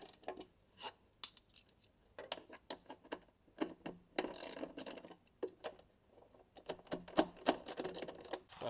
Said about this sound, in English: 8mm spanner, and